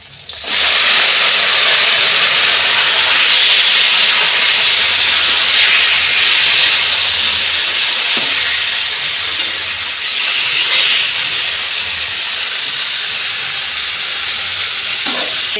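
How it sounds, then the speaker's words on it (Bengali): Spiced chicken sizzles loudly in a pan while being browned, a dense, continuous hissing fry with slight surges and an occasional clink, close and steady throughout. "এই যে মাংসটাকে কষে নেবো ভালো করে"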